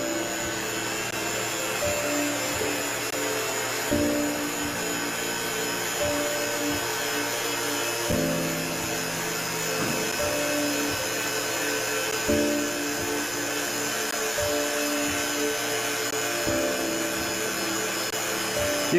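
A vacuum pump evacuating a chamber over a beaker of water runs with a steady loud mechanical drone and whine, its pitch stepping slightly every few seconds, with no one talking over it.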